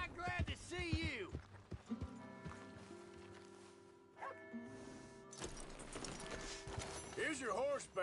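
Horse hooves clip-clop in the video game Red Dead Redemption 2, heard as a short run of steps under game characters talking, with music and ambient game sound around them.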